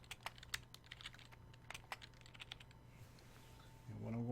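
Quick, quiet taps on a computer keyboard as C++ code is typed, an irregular run of clicks that thins out and stops near the end.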